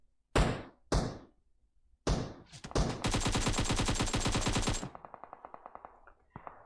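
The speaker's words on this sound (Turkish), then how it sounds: "Bana biri sıktı" In PUBG, a few separate close gunshots crack out first, then a long rapid automatic burst rattles for about two seconds and trails into a few fainter spaced shots, with no talk.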